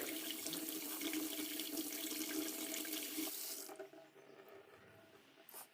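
Spices are rinsed under a kitchen tap, a steady close hiss of running water for several seconds, then the flow stops, leaving faint drips and handling.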